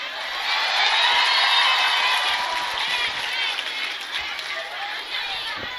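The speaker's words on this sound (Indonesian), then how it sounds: "Tepuk tangan." Audience applause and cheering at a gathering in Indramayu, with children shouting amid a bright, dense wash of clapping that swells early and slowly eases off.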